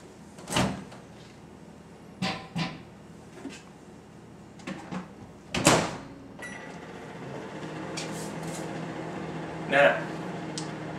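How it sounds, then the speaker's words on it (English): A microwave hums steadily while heating corn, punctuated by door thumps, clicks and beeps, while someone talks nearby. "we can get that corn in the microwave"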